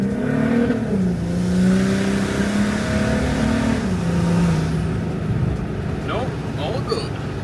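Volkswagen Touareg on an on-road test drive after a transfer box repair, with a steady engine drone and tyre hum rising and falling in pitch as it accelerates and shifts, constant and close from inside the cabin.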